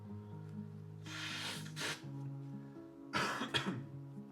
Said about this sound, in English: I'm gonna blow my nose.